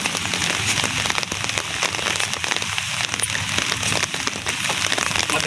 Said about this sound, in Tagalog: umuulan-ulan na po, hindi katulad ng nakaraang araw.